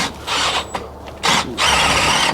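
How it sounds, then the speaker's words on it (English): A drill bites into a brake plate on a Case 580C backhoe during brake repair. It comes in short, close, grinding bursts separated by brief pauses. "And I don't want to drill all the way through."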